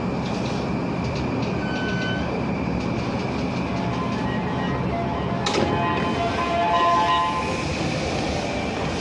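Electric train pulling into a JR East station platform, track four, a broad steady rumble of wheels and motors with squealing brake tones rising near the end, heard alone on the platform.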